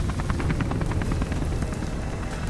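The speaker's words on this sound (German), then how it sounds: "Ich nehme den Helikopter!" A helicopter in the video game Beyond Two Souls, during a chaotic escape among exploded cars, gives a steady low rotor rumble with rhythmic chopping pulses, continuous and moderately loud.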